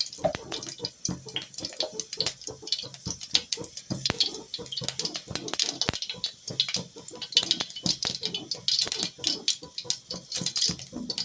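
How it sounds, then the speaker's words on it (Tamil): Mustard seeds spluttering and popping in hot oil for Tamil coconut rice, a dense run of sharp crackles and pops that continue for about eleven seconds, close and fairly loud. "கொஞ்சமாக கடுகு போடுறேன், பொரிக்கும்."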